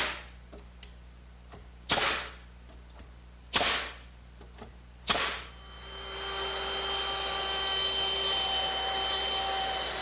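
Nails are driven into the edges of a wooden chair's seat slats, three sharp, separate bangs about two seconds apart, followed by a rising steady machine whine.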